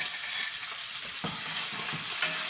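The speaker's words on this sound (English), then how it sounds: "I'm gonna add the beans" Beans are being added to browning sausage in a hot pan, giving a brief, steady sizzle with a few soft scrapes and clatters up close, and nobody speaks.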